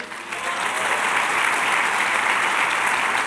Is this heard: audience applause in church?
yes